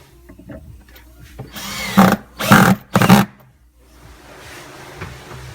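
Power drill driving screws through storage hinges into wood, three short loud bursts in quick succession with quieter handling noise before and after.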